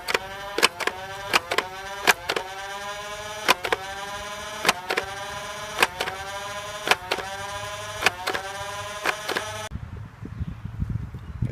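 A WorldTech Warrior foam dart blaster fires about a dozen darts in a brisk, even sequence of sharp, close mechanical shots over a motor whirr. It falls silent near the end.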